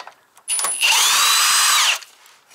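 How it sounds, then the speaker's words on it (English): A power drill spins out fasteners on a Toyota Tundra grille in one sustained whirring burst of about a second, loud and close, with brief clicks before and after. "This drill's way overkill for this."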